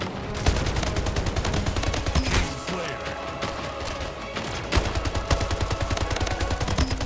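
Rapid bursts of gunfire from a gun in a free first-person shooter video game, dense repeated shots in fast automatic runs with a brief lull midway, loud and close.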